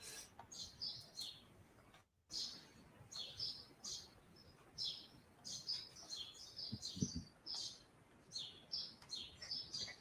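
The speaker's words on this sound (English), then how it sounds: "John says they're sparrows." Sparrows chirping: rapid, high, bright tweets in repeated clusters throughout, fairly faint and distant, with a brief gap early on and a soft low thump partway through.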